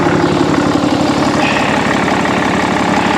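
Cummins 6.7 turbo diesel idling with its turbocharger whining, a steady, loud, close drone with an even engine rumble throughout and no voices.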